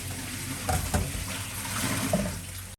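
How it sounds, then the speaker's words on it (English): Pork pieces frying vigorously in hot oil for Singapore-Malaysia style pork ribs, a steady close crackling sizzle lasting throughout with a few louder spits. "Put in all the pork and you should be able to hear the oil being more vigorous"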